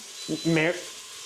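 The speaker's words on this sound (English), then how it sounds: "Why is it beeping?" A short electronic tone from a cooking appliance signalling the end of its sauté mode, while making beef bourguignon, sounds once over a quiet sizzling background, bright and steady for a moment before cutting off.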